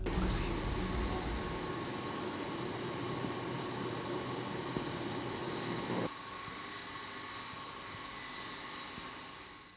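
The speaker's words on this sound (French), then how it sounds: "coupons la musique pour apprécier le bruit produit par la machine" A Planeterrella aurora-making machine runs with a steady, loud mechanical hum and hiss, like a vacuum pump, holding level for about six seconds before dropping slightly quieter and continuing alone.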